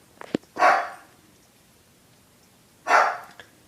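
Two single dog barks, loud and close, spaced a couple of seconds apart with quiet between them, indoors in a household setting.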